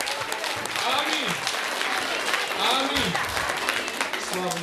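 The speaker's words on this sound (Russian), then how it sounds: "Аплодисменты воздайте!" Church congregation applause, continuous dense clapping from a crowd with voices calling out over it.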